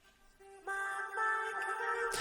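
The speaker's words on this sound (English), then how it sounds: "It's a huge delay, lots of reverb as well, very, very cavernous, ethereal as well." Lead vocal drenched in a huge delay and heavy reverb from Guitar Rig 6 on a lo-fi bedroom pop track, a sustained cavernous, ethereal tone that swells and smears after a soft start.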